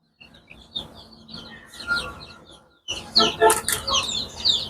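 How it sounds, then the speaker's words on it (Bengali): Free-range desi chickens on a small poultry farm cluck and chirp in short irregular bursts, growing busier and louder in the second half. "এই যে আমার এখানে দেখেন মুরগিগুলো দেখেন আলহামদুলিল্লাহ দেখি সুন্দর খাচ্ছে ঘুরতেছে খেলতেছে দেখেন"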